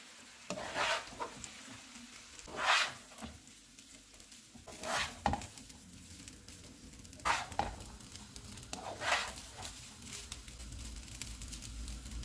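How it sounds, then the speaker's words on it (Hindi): A spoon stirs lemon rice in a pan, mixing in lemon juice, lemon paste and coriander; soft scraping strokes come in irregular bursts, with a faint sizzle underneath. "नींबू का रस, लेमन पेस्ट, धनिया और इनको मिक्स कर देंगे।"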